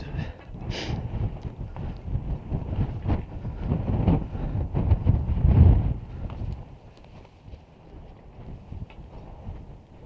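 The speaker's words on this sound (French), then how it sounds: "Et du vent, ça souffle." Low, rumbling wind gusts on the route to the cross of Sainte-Victoire mountain swell and fade against the microphone, strongest midway, with faint rattling noises underneath.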